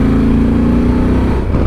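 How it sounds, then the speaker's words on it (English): A 2024 Honda Transalp 750 motorcycle engine accelerating, a loud, close, steady mid-pitched engine note rising briefly on a test ride, with no talk. "Gutsy engine."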